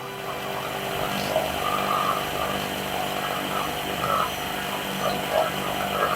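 A vacuum pump evacuates the refrigerant system of an Electrolux fridge during an oil blockage repair, giving off a steady, moderately loud mechanical drone that continues without a break.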